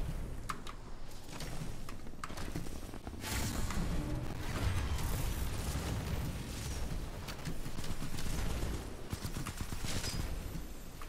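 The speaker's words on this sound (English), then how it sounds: "I hear the enemy sentry turret" An enemy sentry turret fires in the video game Titanfall 2, producing dense, continuous rattling bursts amid loud explosions and mechanical clatter throughout.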